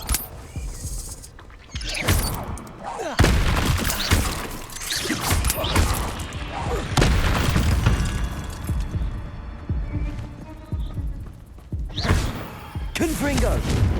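Spell blasts in Hogwarts Legacy, including Confringo, Expelliarmus and Glacius, sound as a rapid series of loud thumping impacts, crashes and shattering bursts, close and irregular across the stretch with brief lulls between volleys.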